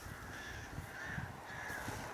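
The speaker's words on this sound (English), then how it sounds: "there's a literal crow war going on up there" Crows cawing back and forth outdoors along the Lochwinnoch Semple Trail, several fairly distant, faint calls repeating in an uneven rhythm over a soft background hiss.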